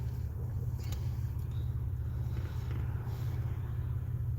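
Road traffic is heard from inside a car stuck in slow traffic, a constant low engine and road rumble with faint wind noise and no talking.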